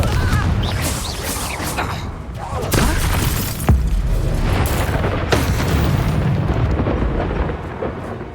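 Confringo spell blasts in the Hogwarts Legacy video game, a series of loud booming explosions with crackling, shattering debris and rumbling tails, several hits a second or so apart amid ongoing combat noise.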